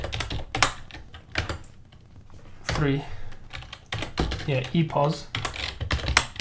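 Computer keyboard typing as code is entered, a quick run of key clicks under a man's speech that keeps going throughout.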